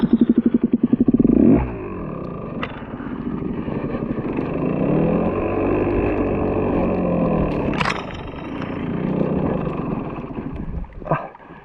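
A motorcycle stuck in snow and branches revs hard, starting with a loud, rapid, rising burst, then settling into a strained, wavering engine drone with clattering knocks, close and loud with no talk.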